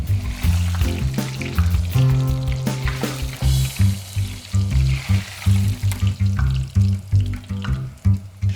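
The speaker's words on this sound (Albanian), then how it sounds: "do e skuqim tash në vaj" Eggplant slices sizzle and crackle in very hot oil in a home kitchen, a loud continuous frying hiss with bursts of spattering, while music plays throughout.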